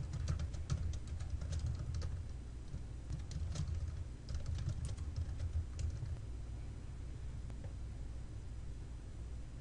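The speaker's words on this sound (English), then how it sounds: "I'm just going to type a response." Steady clicking keystrokes on a computer keyboard in bursts with brief pauses, typing a response, close but quiet over a low background hum, no talk.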